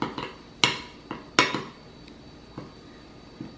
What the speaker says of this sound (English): And I'm going to use a spoon to mix it.